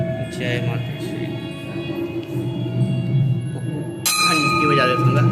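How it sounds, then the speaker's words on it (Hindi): A bell rings with lingering metallic tones during Navratri festivities in Kanker, with a sharp fresh strike near the end, heard over voices and background crowd noise. "घंटी बजा देता हूँ।"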